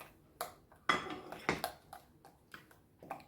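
Spoon scraping and clinking against a bowl while batter with kaşar cheese is mixed, a quiet irregular series of short knocks and taps.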